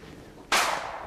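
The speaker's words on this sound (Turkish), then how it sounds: "Silah sesi, silah sesi." A single sharp gunshot in the Roblox game Brookhaven cracks out suddenly after a quiet moment, followed by a brief fading tail.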